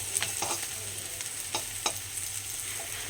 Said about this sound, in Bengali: আচ্ছা, লাল লাল করে উচ্ছে ভাজা করছে এখানে দেখতেই পাচ্ছ